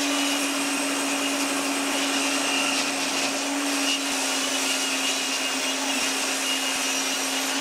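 Power saw ripping beech wood strips to 4 cm width, a continuous loud whining drone with a steady pitch held throughout, no speech.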